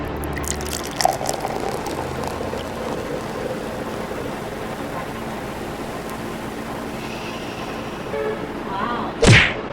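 Hot water poured from a kettle into a cup for instant coffee in a home kitchen, a soft steady trickle running for several seconds, ending in a brief louder splash and clink near the close.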